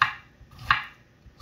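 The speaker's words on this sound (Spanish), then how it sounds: "terminar de picar bien el tomate" A knife chopping tomato on a board, two crisp close taps about half a second apart, followed by quiet.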